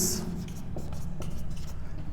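A pen scratches across paper in quick, irregular strokes, close and clear, with faint talk in the background.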